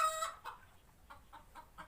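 Chickens cluck in short, fairly faint bursts near a riverside village, a few separate clucks spaced across a quiet background.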